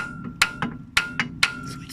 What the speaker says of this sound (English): And hammer it on.